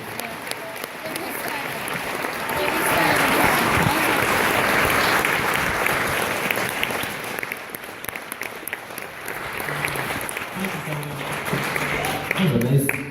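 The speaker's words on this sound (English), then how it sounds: "That was a nice, pretty clap." Concert audience applause swells into a dense, sustained round of clapping that peaks in the middle and then thins out, with a voice talking over the fading claps near the end.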